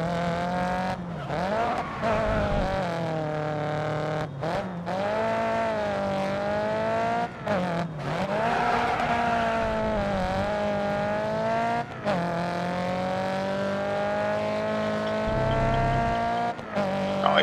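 Nissan Silvia race car in Grid Autosport, engine howling steadily and rising through gear changes with brief drops between shifts, close and loud throughout, with tire squeal in places.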